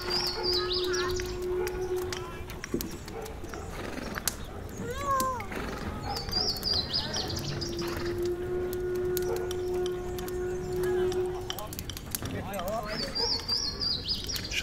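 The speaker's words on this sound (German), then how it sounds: "Konzentriere dich nun auf das Geräusch der Vögel." Birds chirp and tweet in short repeated calls, mixed into a busy layered soundscape that also holds other animal sounds and background noise, steady in level throughout.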